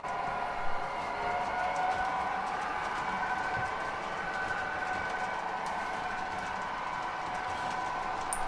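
A model train running steadily on a layout, a continuous whirring motor hum with faint rail clicks, close and even throughout with no talking.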